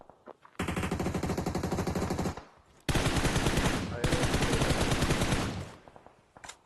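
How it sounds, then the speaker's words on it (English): Sustained automatic gunfire in the mobile battle royale game PUBG Mobile during a tournament grand final, loud and continuous in two long bursts with a brief pause between, ending with a fading tail. "where did Diaz just get shot from?"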